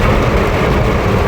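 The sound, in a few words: heavy rain heard from inside a car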